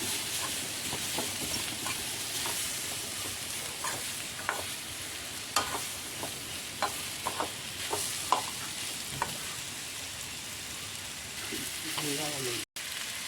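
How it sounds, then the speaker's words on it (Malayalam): Mango pieces and mustard seeds stir-frying in a pan, giving a steady broadband sizzle with scattered sharp pops and scraping stir clicks throughout, moderately loud and continuous, ending with a brief clatter. "മാങ്ങ കടുക് വറുത്തത്"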